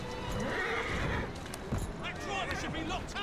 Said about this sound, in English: Wait, are the horses just going on their own?